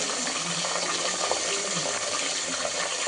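Onion dropped into hot oil with masala produces a constant, dense hiss of frying that stays even and fairly close throughout, with no voices.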